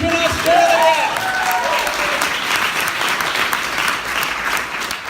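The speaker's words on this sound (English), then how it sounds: "Another round of applause for Beowulf Jones" A comedy show crowd in Brisbane, Australia breaks into loud, dense applause. A voice speaks briefly over the opening clapping, then the sustained clapping continues on its own.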